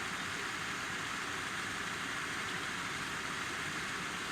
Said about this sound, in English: I'm sure you can probably hear the aerator in front of me on the right.